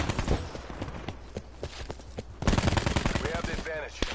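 Rapid gunfire from a Call of Duty match, loud bursts of shots crackling in quick succession with a heavier cluster near the end, while players speak over the action.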